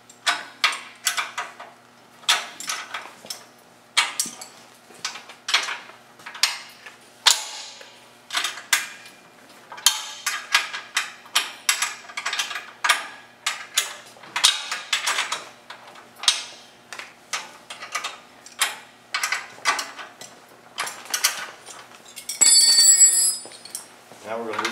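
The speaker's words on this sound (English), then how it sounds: "Now I'm going to loosen up the motor mount bracket to loosen the belt, change them" A half-inch ratcheting wrench loosens motor mount bracket bolts on a kinetic log splitter, giving long runs of quick, close clicks in bursts with short pauses, and a brief metallic rattle near the end.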